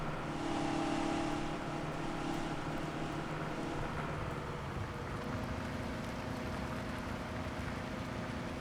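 A tractor working a field in Farming Simulator 17, steady droning engine hum with tonal whine, constant and fairly quiet, no voices.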